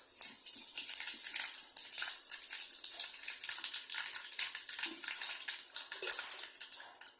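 Rapid, irregular crackling and popping of mustard and fenugreek seeds spluttering in hot oil, close and continuous with sharp bright bursts.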